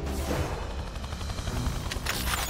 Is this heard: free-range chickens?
no